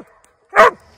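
A hound dog gives a single loud, close bark, short and sharp, after a brief quiet stretch outdoors.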